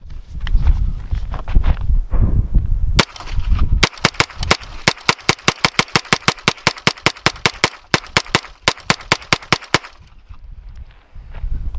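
Rapid semi-automatic gunfire from a SIG MPX 9 fitted with a Timney trigger, two short opening bursts followed by a long fast string of sharp, loud, evenly spaced shots, then quiet, with no voices.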